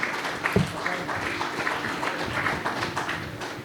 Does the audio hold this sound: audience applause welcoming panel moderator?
yes